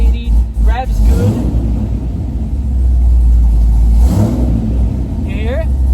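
A Corvette engine idling with a steady deep rumble, rising in a couple of brief revs near the start and again toward the end, loud and close.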